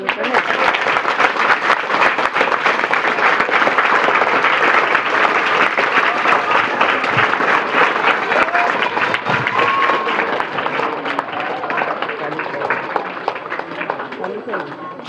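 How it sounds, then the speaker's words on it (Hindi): Loud, sustained applause fills a school farewell for a transferring teacher, dense clapping holding steady throughout with some voices mixed in, easing slightly toward the end. "जोरदार तालियां"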